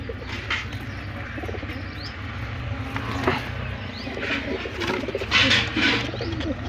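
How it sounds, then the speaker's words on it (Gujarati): Fancy pigeons coo in repeated low, throaty phrases close by, mixed with occasional chirps and a brief flutter of wings. "ફેન્સી કબૂતર."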